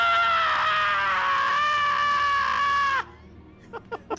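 A voice imitates a horrible, endless shriek: one loud, sustained, wavering high scream held for about three seconds, then cut off, followed by a few short voiced sounds.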